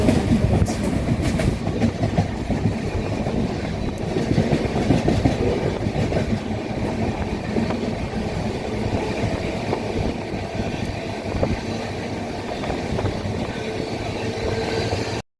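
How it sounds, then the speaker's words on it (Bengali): A train runs on the tracks at dawn, giving a continuous, loud rumble with rhythmic clickety-clack of wheels over rail joints, heard steadily throughout. "ভোর হয়ে গেছে আর ট্রেন চলছে নিজের গতিতে"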